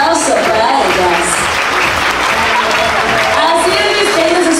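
An audience at a sea lion show in an aquarium in Mazatlán applauds steadily and loudly throughout, a dense wash of clapping with some cheering voices mixed in.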